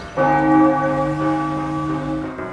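A church bell rings out with a long, sustained tone and rich overtones, fairly loud and steady, with no voices.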